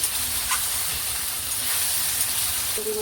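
Water hits a hot pan of fried rice and potatoes, giving a steady broadband hiss and steam sizzle that holds evenly for a few seconds, close and moderately loud.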